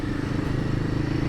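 A Royal Enfield Himalayan 450 motorcycle being ridden during break-in hums with a steady, low engine drone and wind rush throughout, close and continuous with no talking.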